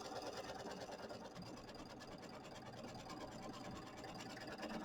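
A Luminaire sewing machine stitches through stabilizer with a rapid, even mechanical whir and fine rhythmic ticking, faint and continuous, without talk.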